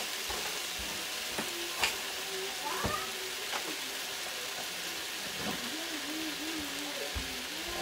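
Sausage and eggs fry in a greased hot pan, with a steady close sizzle throughout, occasional utensil scrapes, and a faint meow-like sound.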